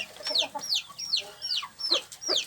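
Chickens cluck in a small backyard farm coop, a quick series of close, sharp clucks and squawks repeating in an uneven rhythm without any talking.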